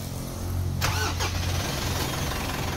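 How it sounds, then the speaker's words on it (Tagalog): Mitsubishi Montero with a 4N15 diesel engine, known for black smoke and blowby, cranks briefly and catches, settling into a steady idle rumble, loud and close. "Okay, engine start."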